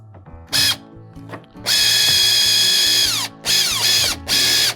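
Power drill fitted with a Phillips driver bit tightening hardware on a Hobie Pro Angler kayak, several short whirring bursts of rising pitch, one long run of about a second and a half, with ratchet clicks between, close and loud.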